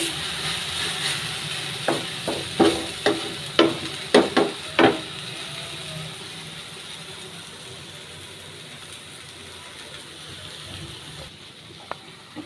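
Jute leaves (pat shak) cooking in a pan give a soft, steady background hiss, broken by a burst of about ten sharp clicks and scrapes of stirring that then fall away to a quiet simmer.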